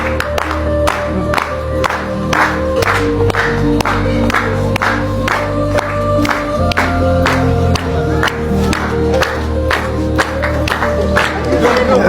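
An audience at a ceremony applauds loudly and steadily for about twelve seconds, dense clapping with some crowd noise and cheering mixed in, and no speech.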